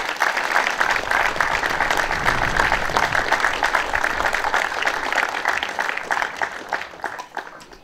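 An audience at a regional SDS party members' gathering applauds, a loud, dense wash of clapping that holds steady and then fades toward the end.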